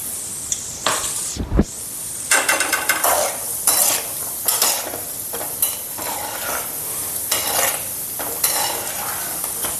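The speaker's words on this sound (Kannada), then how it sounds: "ಕ್ಯಾಶ್ಯೂ ಫ್ರೈ ಮಾಡುವ" Cashews frying in very hot oil in a pan, a loud, steady crackling sizzle broken by repeated scraping stirs of a metal spoon, close and without talk.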